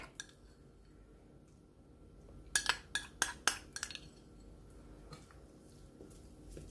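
A spoon clinks and scrapes against a bowl in a quick run of taps, then softer stirring, mixing pastry dough ingredients including ghee, close and quiet with no talking.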